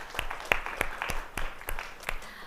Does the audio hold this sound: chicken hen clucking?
no